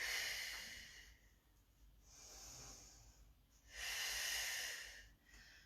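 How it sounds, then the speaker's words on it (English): A slow, deep breath during a morning yoga flow: two long, airy exhales several seconds apart, soft and close, with a quieter inhale between them and no talking. "And make sure you exhale completely."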